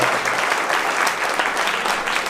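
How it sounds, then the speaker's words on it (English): Seminar attendees give a final round of applause for the panelists, a dense, steady crowd clapping that stays loud and even from start to finish. "please, one last round of applause for our panelists today"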